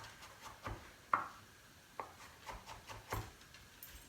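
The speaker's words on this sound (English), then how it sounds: "What I do when I chop something like this is I actually hold the tip and then go around like this." Knife chopping through zucchini filling on a cutting board while making taco stuffed zucchini boats, a handful of soft, irregular taps and scrapes, fairly quiet and close, with no talking over them.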